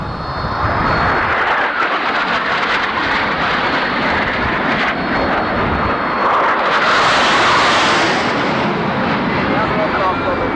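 A military jet roars loudly and continuously overhead at the 1990 Farnborough Air Show, its engine noise swelling near the end, with an announcer talking over it.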